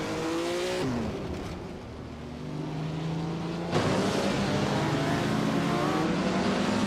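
Vintage Maserati and Jaguar race cars racing around a tight-cornered track, engines droning and shifting pitch as they pass close by, one car's note dropping as another rises, a steady loud mechanical roar with no talking.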